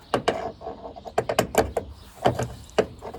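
A wrench works against bent metal while an ironworker straightens a door, making a quick series of close metallic clanks and knocks, some in tight pairs, with short gaps between them.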